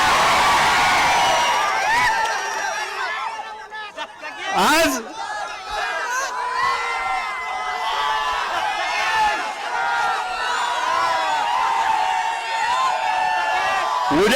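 A large crowd at a political rally cheers and shouts, the noisy roar of many voices running the whole way through with whoops and bursts of chatter, and one voice speaking briefly over it.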